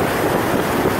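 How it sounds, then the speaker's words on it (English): Strong wind buffets the microphone on a Florida beach at Boca Grande, a loud continuous rumbling roar with surf washing underneath. "Windy as anything."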